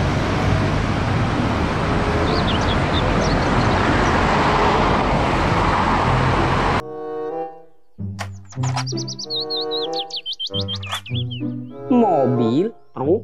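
A toy double-decker bus gives a dense, loud rumbling engine-like noise for roughly seven seconds. Bright chirpy electronic tones and melodic beeps follow, alternating with short silences.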